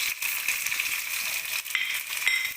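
Red chili, bay leaf, onion and garlic sizzle steadily in hot oil for curry tempering, a close, continuous crackling hiss with small pops and no talking.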